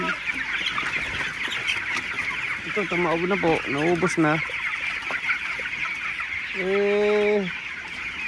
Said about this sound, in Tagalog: Yung maririnig mo na mga manok na yung ingay.